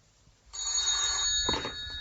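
A telephone rings in a 1977 radio drama sound effect, a steady electric bell trill starting abruptly and sustained loudly over a faint background hiss, with no talk.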